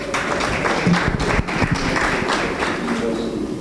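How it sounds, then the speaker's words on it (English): Audience applause for panelists at a panel discussion on technology-enabled agricultural transformation, a continuous, fairly loud burst of clapping filling the room, with some voices underneath. "a round of applause for our panelists"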